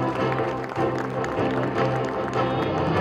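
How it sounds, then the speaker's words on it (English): A large hall audience at a literary awards felicitation in Kolkata gives a sustained, dense round of applause for the awardees, steady and fairly loud throughout, with a faint murmur underneath. "May we have a huge round of applause for all the awardees today."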